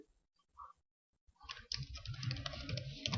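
Quick clicking keystrokes on a computer keyboard while Java code is being entered, starting sparse and faint, then becoming a dense, close, steady run of taps.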